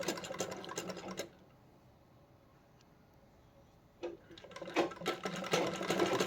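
A zigzag sewing machine stitching cloth with nylon thread, heard as a fast rattling run, a quieter pause, and then a second burst of stitching, close by and without talking.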